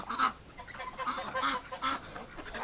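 Freshwater ducks honk and quack repeatedly outdoors in winter, several calls in a loose, uneven rhythm at close to moderate distance, with no talk.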